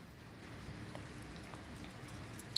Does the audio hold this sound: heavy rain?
yes